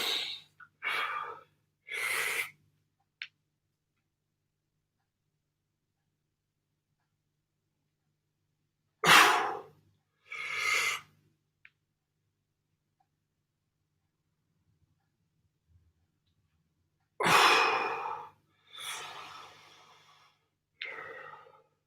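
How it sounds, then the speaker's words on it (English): Forceful breaths pushed out during a home lower-body prehab workout come in short clusters of sharp, loud exhales and snorts. Long silent pauses separate the clusters. "breathe in, hold it, drive up, powerful breath out"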